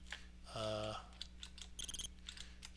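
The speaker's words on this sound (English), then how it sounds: "Now we hear the crickets." Crickets chirp in an 80s horror video game as short, high trilling bursts over a low electronic hum, with a brief tonal game jingle and a voice talking softly nearby.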